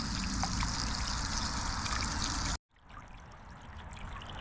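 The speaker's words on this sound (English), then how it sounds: "Now we've got some running water." Water runs from a sprayer on a solar bird bath fountain, a steady close trickling and splashing that cuts out abruptly, then resumes more softly.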